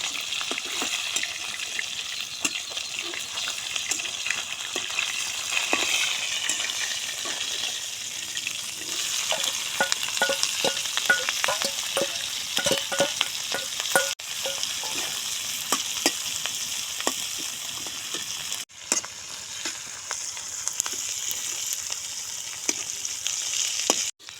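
Onion and garlic fry in a pan after fish, giving a steady moderate sizzle with repeated scraping stirs and brief pauses, no voices.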